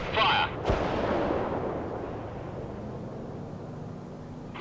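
A tank fires a HESH round in the World in Conflict video game, one loud blast followed by a long rumbling decay, with brief voices at the start and end.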